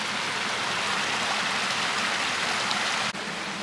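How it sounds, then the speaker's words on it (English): Steady broadband rush of the Kazankite Waterfall near Topolovgrad, Bulgaria, a continuous close roar of falling water with no talk. "Yes, this is called the Kazankite Waterfall."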